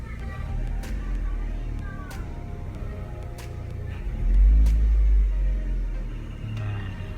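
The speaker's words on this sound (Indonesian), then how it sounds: "Kita coba gas." The engine of a Chevrolet Spin revs up under a steady low rumble, with one stronger swell of throttle midway, heard at moderate distance with no talking.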